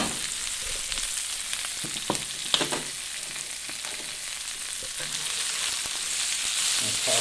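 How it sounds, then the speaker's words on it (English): Vegetables hitting a hot oiled pan with onions already cooking, a bright continuous sizzle with a few clicks and taps of stirring, steady and close. "Notice I got the pan nice and hot, onions are simmering, in goes the veggies."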